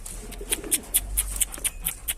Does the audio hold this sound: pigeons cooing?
yes